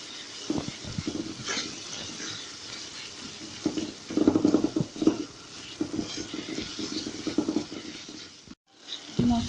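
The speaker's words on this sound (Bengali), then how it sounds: "এবার আস্তে আস্তে নাড়তে থাকি" Onions frying with cumin and garam masala in a pan, stirred slowly: soft sizzling with irregular scraping and stirring bursts, fairly close, with a brief pause near the end.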